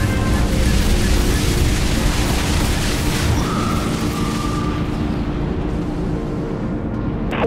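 Heavy broadside plasma batteries fire aboard a warship in the Dreadnought space combat game, a dense rolling barrage of loud booms that fills the whole stretch and eases slightly toward the end.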